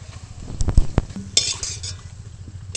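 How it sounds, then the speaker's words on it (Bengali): Papad made from leftover cooked rice frying in hot oil, giving a soft bubbling sizzle with a few clinks and scrapes of a utensil against the pan, close and fairly loud. "দেখো আমাদের একবার করে ভাজছি, কত পাঁপড় ভাজা হচ্ছে"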